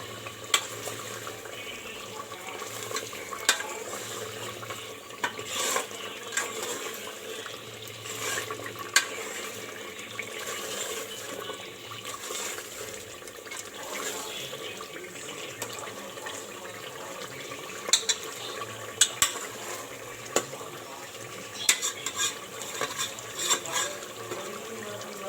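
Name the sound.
beef pasande gravy being stir-fried (bhunai) in a pan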